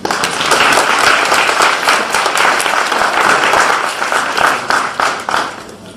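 An audience at a 2018 university graduation ceremony in Manchester applauds loudly and close by, a thick, continuous roar of clapping with individual sharp claps standing out and a slight dip near the end.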